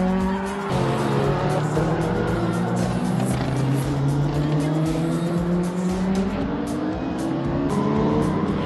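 Ford Escort rallycross cars racing in a two-wheel-drive heat, engines screaming loud and near throughout with rising and falling revs, gear changes and tyre squeal as they battle for position.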